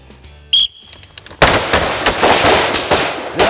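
Two quick AR-15 rifle shots fired as a control pair during a training drill, loud and sharp with echoing reports, preceded by a short electronic beep.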